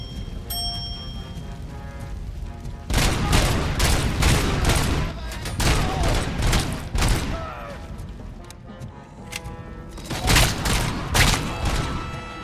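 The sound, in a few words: OCP shotgun firing in RoboCop: Rogue City video game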